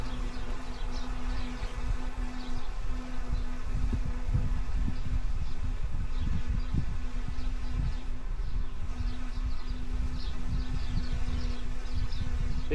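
Honey bees swarm around an open hive during work on a queenless colony, producing a dense, steady buzz with a constant drone tone that holds from start to finish, close and even, with no voices.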